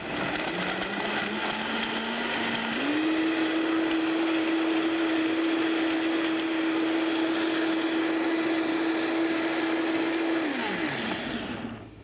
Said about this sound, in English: This Vitamix is really great because it's a very intense kind of blender.